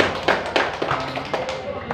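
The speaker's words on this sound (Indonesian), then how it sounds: "Untuk itu kita berikan tepuk tangan kepada kalian." Applause from an audience at a formal village council plenary session, with several sharp claps rising over a low murmur of voices in a brief burst.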